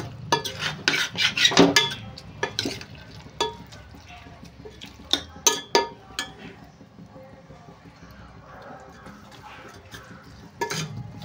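A spoon scrapes and clinks against a pan while milk is stirred into a ridge gourd curry, with quick clusters of metallic taps and a faint sizzle underneath, the strokes coming in bursts then easing off.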